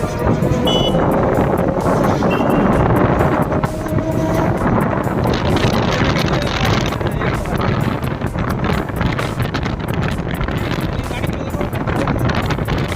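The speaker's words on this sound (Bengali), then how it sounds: "জাস্ট মোটরের সাউন্ডটা আর এমনি গাড়ি চললে গাড়ির যে হাওয়ার যে বেগটা থাকে সেই বেগের সাউন্ডটা পাবেন" Strong wind buffets the microphone on a moving homemade electric bike, masking a faint electric motor hum throughout.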